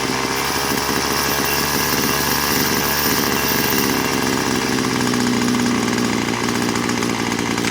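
A Craftsman WS210 string trimmer engine runs steadily and loudly up close, a dense buzzing two-stroke drone with slight shifts in pitch while its carburetor is being adjusted, and no voices.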